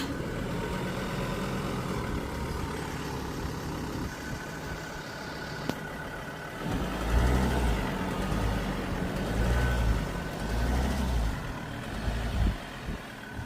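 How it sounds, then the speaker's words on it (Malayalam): A car engine hums steadily and fairly close as the vehicle is moved downhill away from a mountainside wildfire, with a deeper rumbling surge in the second half as it works on the slope; no one speaks. "വണ്ടി നമ്മളത് താഴേക്ക് ഇറക്കിയിടുകയാണ് കേട്ടോ"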